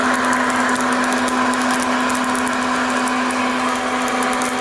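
Coffee beans in second crack during home roasting, faint quick crackles and ticks scattered over the loud, steady whir and hum of the roaster.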